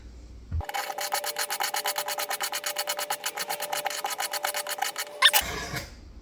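Rolling knife sharpener worked over a pocket knife blade at a 20-degree angle, a close rhythmic series of about thirty quick rasping strokes, fast and even, ending in a sharper scrape, with no talking.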